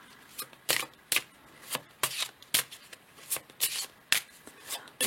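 Playing cards from a deck rubbed, slid and flicked by hand, a string of soft papery swipes and snaps close by at an uneven rhythm, quiet and without talk.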